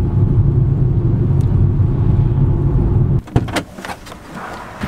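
A car's low engine rumble runs steadily, then cuts out partway through and gives way to a few sharp clunks and thuds of parking and shifting, with a quieter hum after. No talking.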